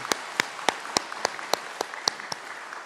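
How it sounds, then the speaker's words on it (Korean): Korean church congregation clapping in praise during a worship service, heard as about ten sharp, evenly spaced claps in a steady rhythm over a quiet room, moderately loud and close. "하나님께 영광의 박수를 올리겠습니다."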